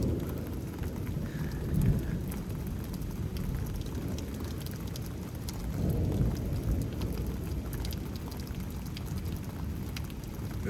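A 5 AM thunderstorm in Houston, Texas: steady heavy rain hisses throughout while low rumbles of thunder swell twice, near and broad, with no talking.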